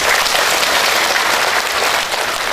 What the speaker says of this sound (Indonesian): tepuk tangan dulu untuk buat mereka semua.